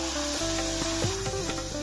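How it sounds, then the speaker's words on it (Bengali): Luchi, a puffed flatbread, frying in hot oil at home in the morning: a steady close sizzle and bubbling runs throughout, with faint clinks and stirring under it. "এখন ভাজছি ডোডোর জন্য লুচি আলু ভাজা"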